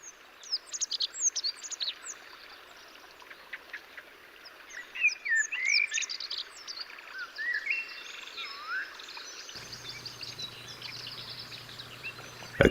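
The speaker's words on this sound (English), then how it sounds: "Thousands of small birds that join the ones resident in this territory." Many small birds chirp and trill in Iberian wilderness, overlapping calls rising and falling steadily throughout, with a low croaking hum joining near the end.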